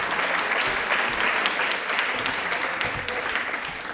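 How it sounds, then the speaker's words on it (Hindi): A studio audience at a railway quiz show claps for a contestant, dense sustained applause from a crowd that holds steady and fades slightly toward the end. "एक बार तालियां अपने दोस्त के लिए बजा दो।"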